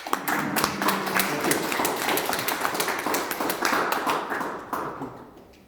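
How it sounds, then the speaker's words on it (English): An audience at a memorial service for a religious brother claps, many hands making a lively burst of distinct, close claps that gradually thin out and fade away toward the end. "we'd like to give him an applause for that"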